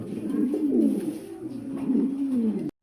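Pigeons offered for sale coo close by, with low throaty rolling calls repeating through a few seconds and no talk over them.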